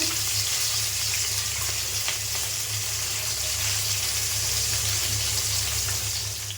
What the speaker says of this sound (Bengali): এখানে মাছ ভাজা হচ্ছে ইলিশ মাছ